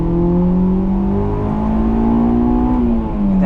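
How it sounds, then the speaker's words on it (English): A 2001 Honda S2000 AP1 engine revs hard from the driver's seat on a winter drive, a loud, sustained rising whine that climbs steadily into the VTEC range, then dips briefly as the gear changes and picks up again. "that transient VTEC sound"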